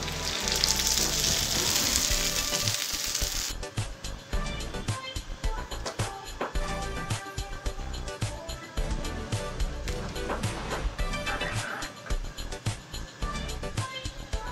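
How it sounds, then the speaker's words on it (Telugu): Gongura rasam poured onto fried onions in a hot pan: a loud bright hiss at first, then a continuous crackling, bubbling sizzle that carries on steadily. "ఉల్లిపాయ ముక్కలు ఫ్రై అయిన తర్వాత మనం ముందుగా తయారు చేసుకున్న గోంగూర రసాన్ని వేసుకోవాలి."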